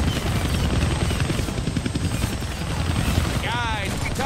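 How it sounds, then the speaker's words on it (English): A helicopter flies in the Deadpool video game, giving a loud continuous rotor thrum and buzz. Game effects and a voice sit over it, with a brief whooshing sweep near the end. "I can't kill that chopper with my guns"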